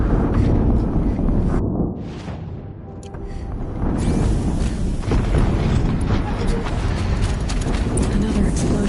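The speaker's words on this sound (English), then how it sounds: "Another explosion." A loud, rumbling explosion from the Horizon Zero Dawn video game, with a heavy low boom and sustained roaring, wind-like noise filling the whole stretch.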